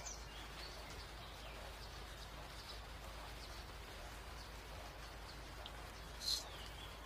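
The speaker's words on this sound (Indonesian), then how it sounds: "Hujan lagi" Steady, faint rain falls in an Indonesian village, a soft even hiss lasting throughout, with one brief bird chirp near the end.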